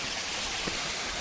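A small stream running near a trekking trail on the way to Agasthyakoodam, heard as a steady, close, unbroken wash of flowing water with no voices.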